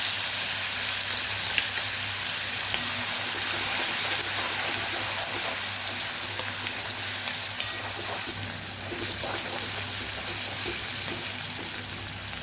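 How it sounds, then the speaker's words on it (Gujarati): Coarsely crushed garlic and green chillies sauté in hot oil already tempered with cumin and asafoetida for a tomato chutney, giving a loud, steady, close sizzle with light stirring throughout. "લસણ અને મરચાંને એક મિનિટ સાતડી"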